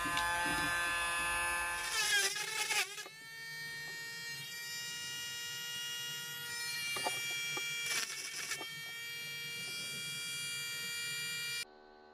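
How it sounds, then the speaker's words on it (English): A trusty Dremel rotary tool cuts a hole for a USB socket while modding a beard trimmer into a USB phone charger, a steady high-pitched whine with harmonic overtones running almost the full length, with brief gritty bursts as the bit bites. "So I think it's time for the trusty Dremel, so we can make the hole for the USB socket."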